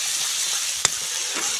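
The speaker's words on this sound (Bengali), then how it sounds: "আদা রসুনটা দেওয়ার পরে এভাবে আমি নেড়ে নেবো।" Ginger-garlic paste sizzles and fries steadily in a hot wok, with one sharp scrape of a stirring spoon partway through and a softer scrape near the end.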